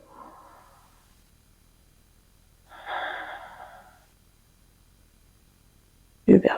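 During a yoga stretch, a person takes a deep breath, a soft inhale followed by a longer, louder airy exhale close to the listener, then a sharp sound at the end.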